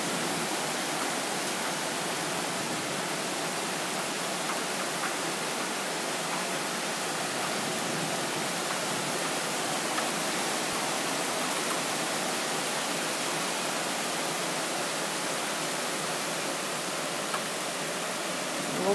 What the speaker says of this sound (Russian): Вот такой вот дождик у нас в Москве.